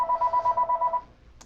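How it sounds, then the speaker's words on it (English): A telephone rings in a rapid repeating electronic trill for about a second, close and clear, then stops, heard during a livestream concert broadcast. "is that your phone?"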